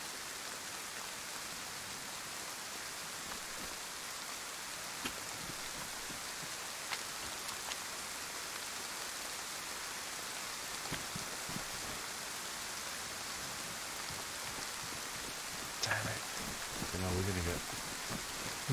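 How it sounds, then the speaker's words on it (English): Rain falling in a dark nighttime video game scene, a constant hissing wash of drops with scattered faint clicks and a short louder thump near the end. "Raining, it's dark."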